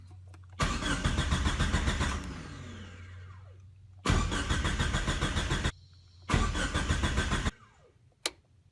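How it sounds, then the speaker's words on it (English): Three loud bursts of a Mitsubishi 4G63 engine swapped into a Mighty Max pickup cranking over without catching, fuel off, separated by short pauses, with a quieter whir fading between them. "I'll give it a few cranks before I turn the fuel on"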